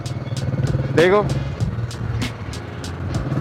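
An old-style 500 cc motorcycle engine with a rough, thumping Rajdoot-like note runs steadily nearby while someone talks over it, with a faint rhythmic ticking above the engine drone.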